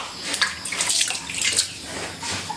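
Water sloshes and splashes in a basin as laundry is rinsed by hand, a close, continuous wet churning with irregular surges and drips and no talking.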